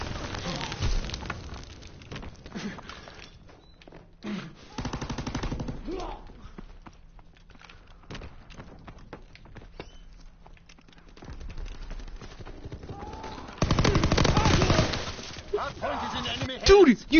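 PPSh submachine gun fire in Call of Duty WWII, rapid automatic bursts coming in several separate clusters, with a player talking between and over the shots.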